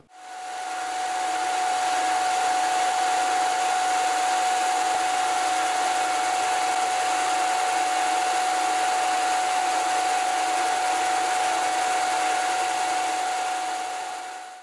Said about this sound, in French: L'aspirateur fonctionne